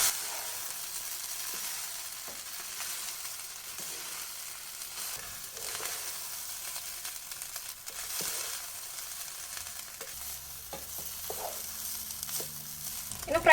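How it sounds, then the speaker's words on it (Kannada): Cooked rice for egg fried rice is turned gently in a pan, giving a steady, moderate sizzle with soft scraping stirs throughout, and a low rumble entering near the end. "ರೈಸ್ ಹಾಕಿದ್ಮೇಲೆ ನಾವು ಮೆಲ್ಲನೆ ತಿರುಗಿಸ್ಬೇಕು"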